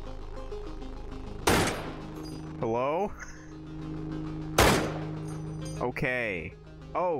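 Two loud single gunshots crack out against a turret in the game Receiver, well apart, each followed by mechanical clicks and metallic sliding sounds over a steady low hum, with a voice speaking throughout.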